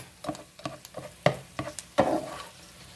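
Onions in a pan, their sizzle faint, with several sharp scrapes and taps of a utensil stirring at an uneven pace, close by and without voices.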